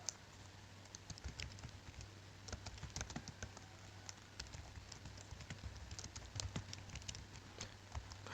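Computer keyboard typing HTML code, steady quick key clicks throughout, soft and close over a low constant electrical hum.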